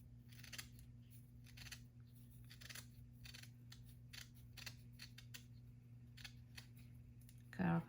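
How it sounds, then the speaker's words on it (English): Scissors snip repeatedly through fabric, cutting off a sewn edge at a crafting table; a run of quiet, evenly spaced close cuts over a steady low hum, with one louder handling sound at the end. "Cut off that sewn edge there."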